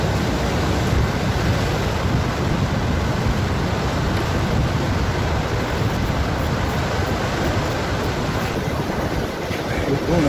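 Strong sea waves crash and churn on a beach, a dense, continuous roar of surf mixed with wind buffeting the microphone, loud and close with no voices.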